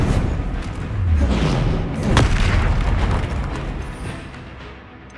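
A Confringo fire spell in Hogwarts Legacy goes off as a deep booming blast with a rumbling tail that slowly fades over a few seconds, heavy and close.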